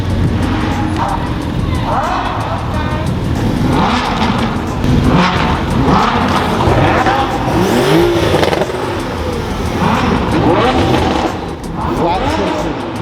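Several sports car engines, including a flat-six, rev and accelerate in bursts, rising and falling in pitch, with people talking underneath and a continuous roar of passing traffic at a car rally launch party in Denver.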